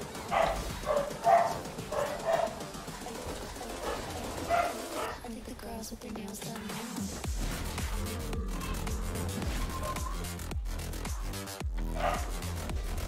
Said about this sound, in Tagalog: yung maingay na aso sana sa stream.